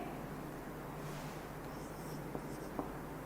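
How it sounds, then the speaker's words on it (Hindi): Chalk or marker writing a chemistry question on a classroom board, a faint continuous scratching with a couple of light taps, heard alone over a steady room hiss. "अपन क्वेश्चन लिखेंगे"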